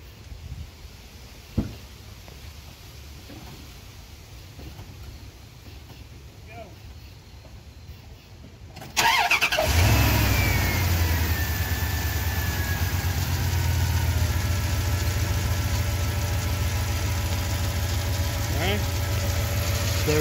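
A 1994-2002 second-generation Dodge Ram truck sits quietly with faint background noise, then its engine cranks and catches about halfway through and settles into a steady, loud, close idle, with a person speaking at points.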